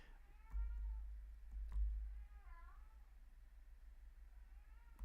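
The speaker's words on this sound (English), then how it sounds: "Excuse my yowling cat as well." A cat yowls in a quiet room, drawn-out wavering meows rising and falling in several separate calls, moderately close, with a couple of soft thumps in between.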